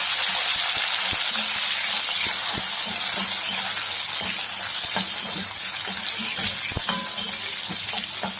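Sliced eggplant fries in hot oil in a pan, giving a loud, steady sizzle and hiss throughout, broken by small pops and crackles.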